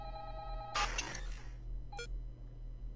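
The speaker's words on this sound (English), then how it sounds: "I need to turn off the phone or else she will disable it permanently" A telephone rings in the horror video game Five Nights at Candy's 2: a steady electronic tone, then a loud crash-like burst and a short blip, with no talking.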